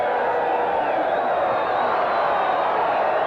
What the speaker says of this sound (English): The crowd, disappointed no doubt, trying to get the Mexican wave going